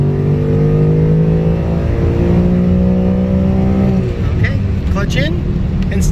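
A Ford Mustang with a Coyote V8 accelerates hard at wide open throttle from inside the car. The engine drone climbs steadily in pitch, then shifts and keeps pulling with a loud, continuous whirring roar.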